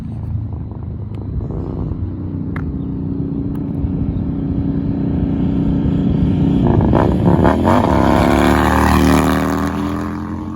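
Harley-Davidson Softail 103 engine fitted with a Vance and Hines 2-into-1 high output short exhaust, a deep steady idle rumble that swells into louder revving in the second half.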